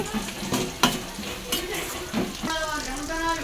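Mustard and cumin seeds tempering in hot oil with curry leaves and coriander, a close crackling sizzle with stirring clatter and a few sharp pops, continuous over a few seconds.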